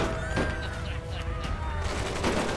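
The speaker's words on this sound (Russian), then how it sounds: "Вот видите, они стреляют одиночным выстрелом" Single rifle and hunting-gun shots fired by colonists defending a settlement in the video game Surviving the Aftermath, sharp repeated cracks over a dense, continuous battle din with game music.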